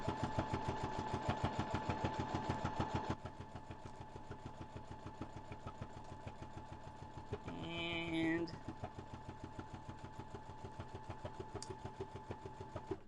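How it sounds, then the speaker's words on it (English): Sewing machine stitching over an open part of a seam to close it, a steady rapid mechanical whirr and clatter throughout, briefly louder at first, with a short higher whine partway through. "We're about to sew over that and close it up."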